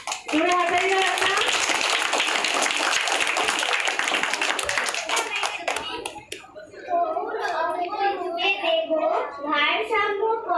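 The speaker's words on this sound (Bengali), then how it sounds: "বাহ, খুব সুন্দর, জোরে হাততালি দাও একটা" Children clap their hands loudly and steadily during a yoga demonstration, a dense burst of applause lasting several seconds, with children's and adult voices talking over and after it.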